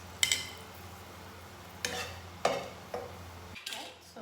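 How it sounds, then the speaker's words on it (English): Whole spices (cinnamon sticks, cardamom pods and cloves) sizzle quietly in hot oil for mutton dalca under several sharp clinks and scrapes of a utensil stirring against the pan, with no talking. "just let it blister or sizzle a bit"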